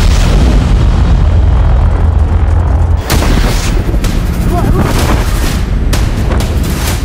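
Powerful booms and blasts from the explosion at the Beirut port, a loud continuous roar broken by sharp heavy impacts and rumbling, with no talking.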